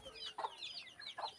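Chickens clucking at close range in a short burst of repeated calls with no voices.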